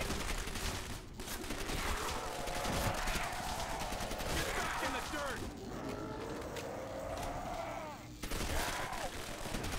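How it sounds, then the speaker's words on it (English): Continuous rapid gunfire in a zombie shooter video game, dense bursts of shots running almost unbroken for about ten seconds with brief pauses, loud and close, with growling creatures and mechanical clatter mixed in. "Shoot the ones from the window, please, I'm reloading."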